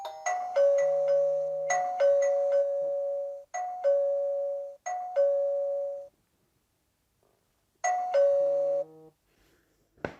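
Chime unit of a CEYOMUR R10 wireless video doorbell plays a loud, clear multi-note melody several times in a row, with short gaps and one longer pause in a quiet room.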